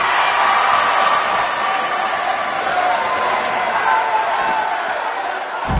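A capacity crowd at a wrestling show cheers in a steady, loud roar with shouts rising out of the noise, sustained throughout and ending on a sharp thud.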